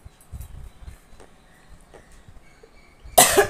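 One person's sharp, loud cough bursts out near the end, following a few seconds of quiet room sound with faint low thumps.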